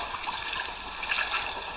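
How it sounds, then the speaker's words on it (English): Virtual rain pattering onto a koi pond in a mobile app, a soft continuous hiss of falling drops and light trickling water, quiet and steady with no talking. "you can hear the rain falling"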